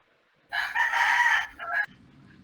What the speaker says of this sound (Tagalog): Kay murag kusog ang manok.